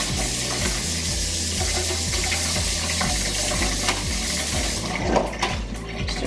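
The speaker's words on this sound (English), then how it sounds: "and just wash them with water." Tap water runs continuously over raspberries being washed in a colander, a loud, steady splashing rush with faint rattling, and no voices.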